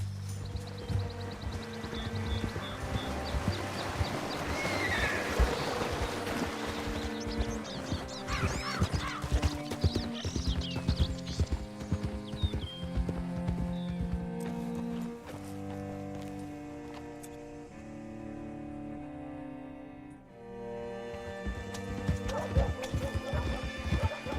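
Horses neighing and hooves clip-clopping in the Red Dead Redemption 2 video game, heard under a steady layer of music and game ambience, with faint crows and water in the background.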